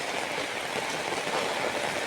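Heavy rain pours steadily on a flooded village in Batticaloa district, a dense, even hiss with no breaks.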